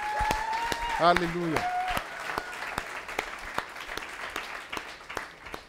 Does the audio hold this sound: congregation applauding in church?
yes